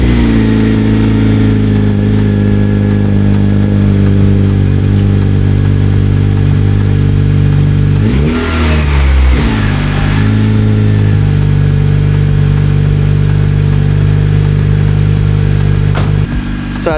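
A car engine nicknamed Clementine idles loudly and close by, steady and throbbing, then is revved briefly midway with a rising and falling surge before settling back to a smooth idle.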